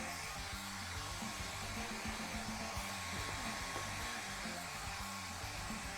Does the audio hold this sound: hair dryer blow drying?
yes